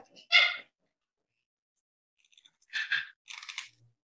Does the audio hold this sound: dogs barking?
yes